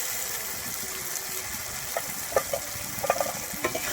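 Salt and turmeric being stirred into a spice paste in a pan for doi katla, a Bengali yogurt fish curry, with a soft steady sizzle and scattered scraping clicks of the spoon.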